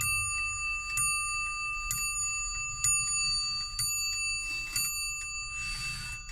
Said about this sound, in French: la pendule elle frappe les heures que sur la cloche arrière